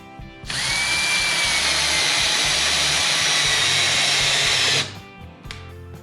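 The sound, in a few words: power drill driving 1 3/4 inch wood screws into faceplate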